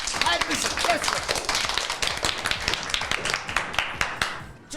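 School pupils receive a burst of hand clapping, dense and lively at close range, continuing steadily for several seconds with scattered sharper claps and faint voices mixed in.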